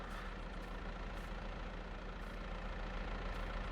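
A front loader tractor in a farming video game idles with a low, steady engine drone, faint and constant throughout with no talk.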